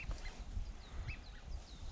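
A flock of geese honking in flight during spring hunting, faint and distant, with several short nasal calls scattered over a low outdoor rumble.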